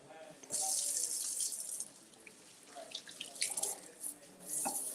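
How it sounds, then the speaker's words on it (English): Hands are washed under a running kitchen tap before cooking, the water hissing steadily for about a second and a half, then splashing in shorter irregular bursts. "Let's clean hands."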